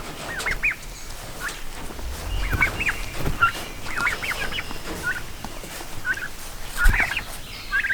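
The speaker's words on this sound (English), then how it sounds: "Morning, turkeys." Turkeys gobble repeatedly nearby, several rattling calls overlapping in bursts over a low outdoor rumble.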